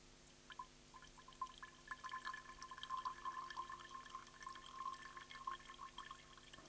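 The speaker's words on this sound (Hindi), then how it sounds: "और यहाँ से पानी भी बहने लगा है।" Water trickling and dripping as it overflows from a beaker while a solid object is slowly submerged, a soft, steady stream of small splashes and drips, faint and close, with no voices.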